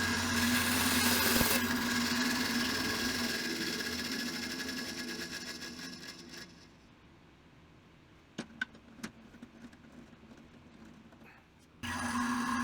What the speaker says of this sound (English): you're going to gyrate the piece onto the cutting blade until you completed a circle